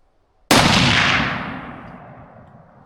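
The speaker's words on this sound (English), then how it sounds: "I'm going to shoot it free recoil again." A single sharp .284 Winchester rifle shot fired free recoil outdoors, a loud sudden crack after a moment of quiet, followed by a long rumbling echo fading out over two seconds.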